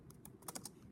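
Quick, light keystrokes tapping on a computer keyboard, about ten soft clicks in under a second, close and quiet with no voices.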